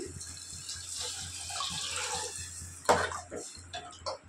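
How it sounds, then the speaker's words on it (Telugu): Water is poured from a small vessel into a pot of moong dal for a Ramzan ash porridge, making a soft, close splashing that swells into a brief louder gush near the end. "చెంబు వాటర్ పోసుకుంటున్నానండి."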